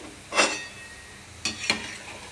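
A snack fries in a pan on a stove, a steady soft sizzle broken by three brief stirring scrapes, fairly quiet and without talk.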